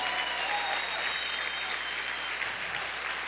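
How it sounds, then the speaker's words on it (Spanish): A church congregation claps loudly during a Spanish-language sermon, sustained dense applause that fills the room evenly, with a low hum running underneath. "A ver, aplaude fuerte al Señor."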